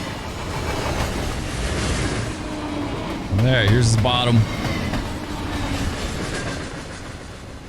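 Freight cars of a 10,000-ton phosphate train in the Run 8 Train Simulator video game clatter steadily along the rails, loud and close, with a brief squealing tone midway and someone speaking briefly over the noise.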